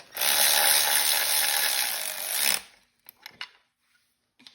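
A power ratchet runs loudly in a dense rapid hammering burst for a couple of seconds, then stops, followed by a few faint clicks and handling noises, while removing an engine from an Audi A4 2.0T.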